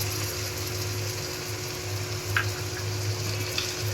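Onion fries in a pan with ginger, garlic and spices, a faint, steady low sizzle with a constant hum and a couple of brief crackles, no voices.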